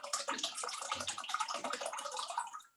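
A hot aluminum can plunged into ice water in a classroom can-crush demonstration, giving a close, loud splashing, bubbling rush of water that lasts a few seconds and then tails off, with no talking.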